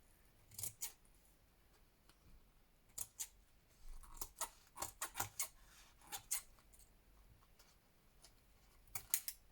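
Scissors snip close around paper ephemera for a junk journal, quiet crisp clicks arriving in irregular clusters with short pauses between cuts, soft and near, with no voices.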